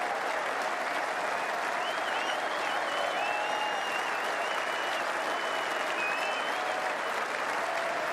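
Sustained ovation from a packed Lord's Test crowd greeting Jimmy Anderson as he comes out to bat against the West Indies, thick even applause with faint whistles and cheers riding on top.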